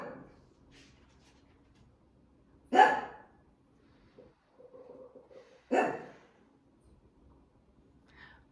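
Old, cranky dogs barking at home: two sharp, fairly close barks a few seconds apart, with faint whimpering sounds between them in an otherwise quiet room.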